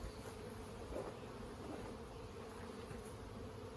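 Dense, steady buzzing of a crowded urban honey bee hive, a continuous close-up drone of many bees with no pauses.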